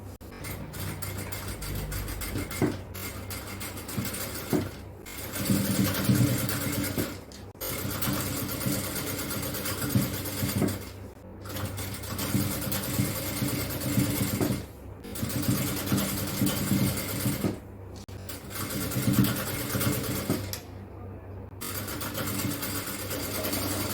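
An electric sewing machine stitches a folded cross piece onto a nighty in loud whirring bursts of several seconds each, separated by short pauses as the fabric is repositioned.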